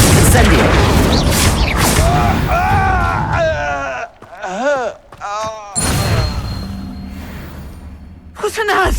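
A fiery Incendio spell bursts out in a Hogwarts Legacy duel, a loud rushing blast mixed with shouting voices and other clashing spell effects.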